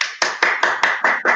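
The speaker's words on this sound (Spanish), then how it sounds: "hacemos un aplauso" Clapping to close an online book presentation: seven crisp, evenly spaced claps about a fifth of a second apart, loud and close, each ringing briefly before the next, sounding like one pair of hands.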